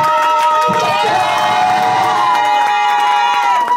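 A church congregation in Nantes cheers and acclaims loudly during a worship service, a dense, continuous roar of voices with whoops and shouts that fills the whole stretch without pause.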